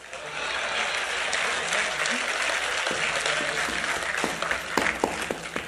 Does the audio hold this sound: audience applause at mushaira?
yes